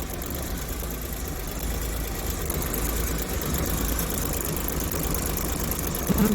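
A warmed-up Daewoo Damas van with an LPG engine idles steadily at around 900 rpm. It has failed an emissions inspection, and its close, even rumble drones on without change.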